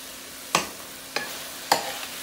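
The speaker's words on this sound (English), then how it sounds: "we're going to take them out. And we're going to throw them over there in that skillet." Pork chops dropped into a skillet, three distinct sizzling thumps about half a second apart, each a short close burst that fades into a faint steady frying hiss.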